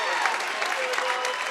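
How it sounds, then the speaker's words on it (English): Appreciative crowd applauding at a high school boys' basketball game, a steady, dense wash of clapping from a packed gym, continuous and fairly loud throughout with no single voice standing out. "gets a nice hand from the appreciative crowd"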